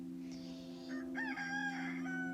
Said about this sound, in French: Pendant que les coqs chantent bruyamment.